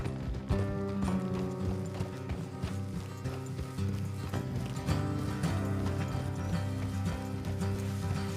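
Horses clip-clopping along a road in Red Dead Redemption 2, rhythmic hoofbeats under a continuous bed of game music with tonal layers, fairly quiet and steady throughout.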